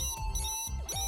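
Phone ringing in the Hyperdimension Neptunia Re;Birth 2 video game, a steady electronic ringtone with repeating bright tonal pulses, clear and close, with no talking over it.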